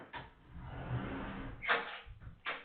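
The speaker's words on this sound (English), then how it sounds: "All right, closing the door." A door swings shut indoors, a muffled thud and rattle followed by a couple of softer knocks, quiet and close with no voices.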